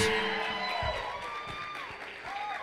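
Audience applause with some cheering at a Spanish-language awards event, sustained clapping heard at moderate distance while voices carry on and a few low thumps sound beneath.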